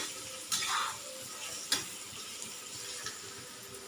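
Onion sautés on an iron griddle for a karatoli vegetable dish, giving a faint, soft sizzle broken by a few sharp scraping stirs.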